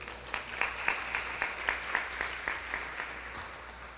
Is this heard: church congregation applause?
yes